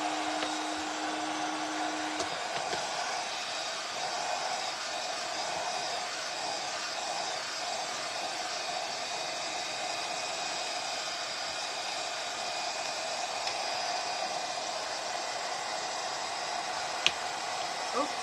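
A hot-air heating tool blows in a steady, continuous whoosh to heat a roll of WoodUBend wood trim, an even rushing drone held throughout with a brief lower hum at the very start.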